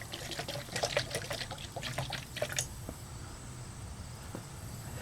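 Paint thinner trickling into a mixing cup, a light uneven pour with bright splashy drips for a few seconds that then thins out to a faint quiet trickle.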